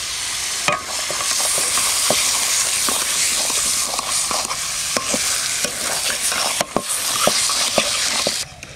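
Desi country chicken goes into spice paste frying in a pan, with a steady loud sizzle and repeated scraping stirs throughout, no talk.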